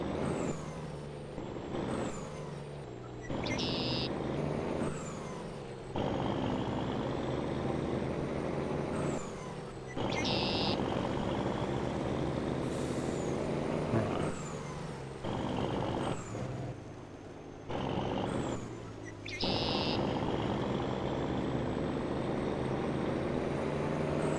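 A truck pulling a trailer in Farming Simulator 22 drones steadily as it drives, with repeated hissing air-brake releases and gear shifts breaking up the continuous engine hum.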